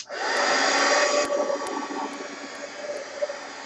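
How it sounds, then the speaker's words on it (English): A heat gun blasts loudly at close range to dry paint dots on an art journal page, a steady rushing roar that settles slightly lower after about a second and then fades toward the end. "I guess the next step before I can do anything else is to dry those dots. Heat gun."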